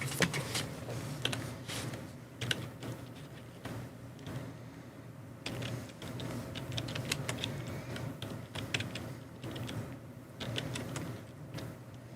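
Rapid clicking of computer keyboard typing runs steadily throughout at moderate loudness, with no talk over it.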